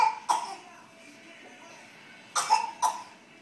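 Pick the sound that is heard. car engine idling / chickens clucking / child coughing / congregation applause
child coughing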